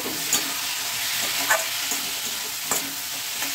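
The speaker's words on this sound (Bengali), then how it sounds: "তো এখন এটাকে আমি একটু ভালো করে নেড়ে চেড়ে দিচ্ছি" Rohu fish head curry with jackfruit seeds sizzles in a pan as a spoon stirs it, with a few sharp scrapes against the metal over a constant close frying hiss and no speech.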